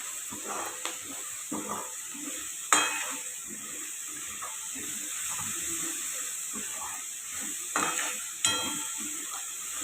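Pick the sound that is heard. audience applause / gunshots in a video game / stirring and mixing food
stirring and mixing food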